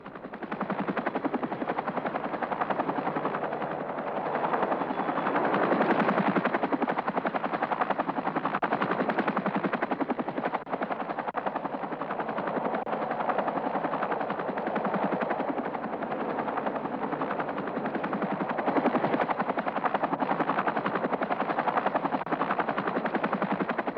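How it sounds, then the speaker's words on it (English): A military helicopter with an Avro-Lycoming turboshaft engine drones steadily for a long stretch, a dense continuous rotor and turbine roar with no talk. "version is powered by an Avro-Lycoming turboshaft engine, giving a top speed of around 140 miles an hour"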